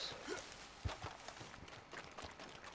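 A horse's hooves clip-clopping in the Red Dead Redemption 2 video game, a few faint irregular thuds over a soft noisy background.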